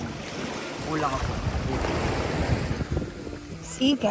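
Ocean waves wash onto a beach in Ilocos Norte, a continuous rushing surf with wind buffeting the microphone and faint voices in the background.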